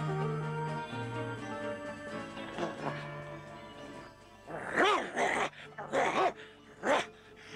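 An old dog in a 1982 Soviet animated film, with tonal music and voices at first, then several loud, rough growl-like bursts in the second half, each about half a second long.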